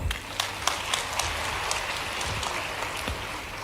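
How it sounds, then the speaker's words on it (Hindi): A crowd claps at a Madhya Pradesh government event on the Ladli Laxmi scheme with Chief Minister Shivraj, giving dense, steady applause with sharper individual claps standing out across the whole stretch. "जय घोष करिए। जोरदार तालियां।"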